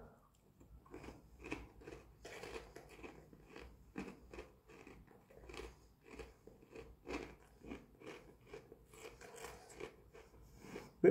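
Crunchy cereal ice cream is bitten and chewed up close, a steady run of crisp crunches and moist mastication sounds at low level without talk.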